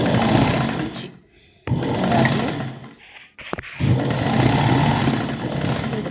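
A sewing machine stitches a blouse in bursts of loud, close mechanical whirring, stopping briefly between runs and then starting again.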